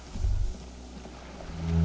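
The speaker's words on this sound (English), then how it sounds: "The distant sound of cargo ships. Signal horns echo on the water." Distant cargo ship signal horns echo low across open water in the Disco Elysium video game, a deep swelling tone near the start that fades, then rises again toward the end.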